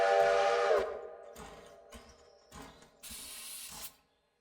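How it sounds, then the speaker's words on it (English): Steam train whistle in the railroad simulation game Railroader, a loud tonal blast that cuts off, followed by several shorter hissing bursts and mechanical clanks with quiet gaps between them. "I'm not in love with that whistle"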